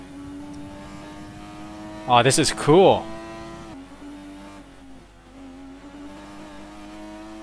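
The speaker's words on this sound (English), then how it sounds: "The car sounds very different." A steady high-pitched F1 car engine whine in the video game F1 2020 runs throughout, with a brief burst of revving in the middle and someone talking over it.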